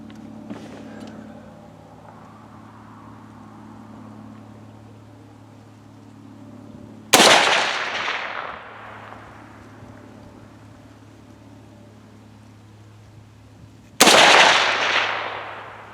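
Two loud, sharp rifle shots from a Bear Creek Arsenal .350 Legend, spaced about seven seconds apart, each with a decaying echo over a low steady background hum.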